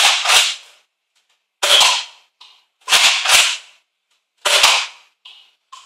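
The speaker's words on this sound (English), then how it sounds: "So let's see if we can fire the other darts." A Nerf Mega Magnus dart blaster with its air restrictor removed fires five sharp, loud shots at irregular intervals, each followed by a brief click or rattle and then silence.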